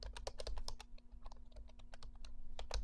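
Rapid, uneven keystrokes on a computer keyboard during coding work, close and clear with no voices, continuing steadily for about three seconds.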